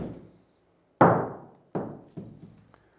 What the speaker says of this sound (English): I'm going to do a half swing with a 7-iron before putting it into a full swing